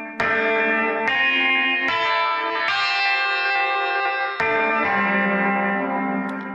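Electric guitar through the Caelum Audio Choric chorus plugin on its progscape preset, playing a slow series of sustained, shimmering notes with a thick, swirling, reverberant chorus tone, alone and fairly loud.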